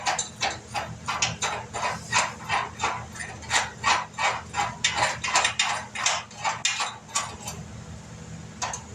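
A ratchet tightens a bolt on a car's driver-side fender in rhythmic, evenly spaced clicking strokes, loud and close, continuing for several seconds.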